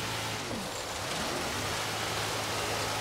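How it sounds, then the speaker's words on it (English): Steady rain in a hill climb racing video game, a dense even hiss filling the whole clip, with a low engine hum from the car underneath and no talking. "Oh, it's raining"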